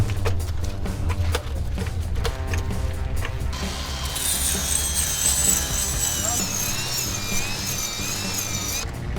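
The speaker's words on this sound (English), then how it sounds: "Whilst jacking the axle up," Car jack raising the axle of a single-seater race car, a continuous mechanical ratcheting and grinding close by, with a high metallic squeal joining partway through.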